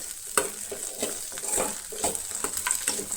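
Sabudana khichdi being stirred in a pan after red chili powder, garam masala and pepper powder go in: rhythmic spoon scrapes and clicks over a light sizzle, close up, no voices.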